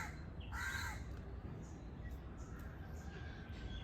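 Crows caw near a lotus plant in a garden, with a couple of short caws up close over a faint, steady outdoor background hiss.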